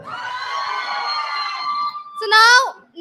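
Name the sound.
audience cheering loudly at a conference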